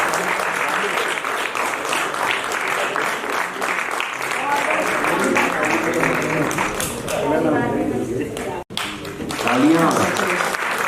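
Audience applause at a theater festival prize distribution fills the hall continuously, dense and loud, with a brief dropout near the end before clapping and crowd murmur resume.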